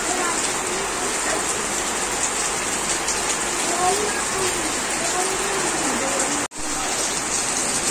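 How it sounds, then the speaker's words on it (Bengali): Heavy rain pours down in the dark, heard from under the shed of a house as a dense, constant hiss and drumming, loud and unbroken except for one sharp momentary dropout near the end. "বৃষ্টির আওয়াজটা পাচ্ছ?"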